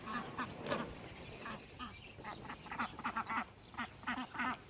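Muscovy ducklings quack and peep in quick, uneven bursts, fairly faint against an outdoor background, several calls overlapping toward the end.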